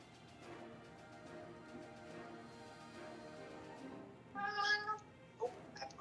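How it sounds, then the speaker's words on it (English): A cat meows in a home while people are playing a tabletop role-playing game. The room is quiet at first, then two or three close, clear meows come in quick succession near the end. "we have a bonus cat."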